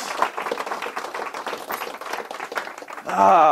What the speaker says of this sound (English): Let's have a big round of applause for Jesse and for John.